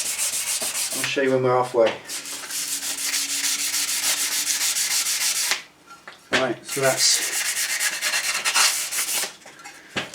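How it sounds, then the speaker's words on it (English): Harsh, continuous sanding scrapes against a metal Triumph heat shield, pausing briefly twice while someone speaks, then resuming loud and close. "Now this is just the initial scuff down."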